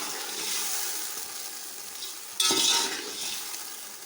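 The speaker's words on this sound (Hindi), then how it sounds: "और अब इसके अंदर मैं गोश्त ऐड कर रही हूँ और आप इसको अच्छी तरह से मिक्स करते हैं।" Beef is stirred into sautéed tomatoes in a pan for palao, giving a steady frying sizzle with a louder burst of sizzling partway through as the meat hits the hot oil.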